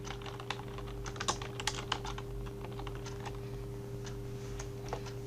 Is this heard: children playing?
no